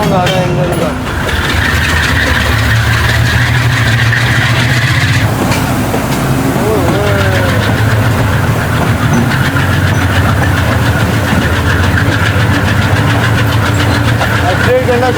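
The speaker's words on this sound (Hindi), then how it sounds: "क्या मज़ेदार साउंड आ रहा है इंजन का।" The engine of the Karachi Express train running as it pulls out of a station in Sindh, a loud steady rumble and drone heard from on board, with a voice talking over it.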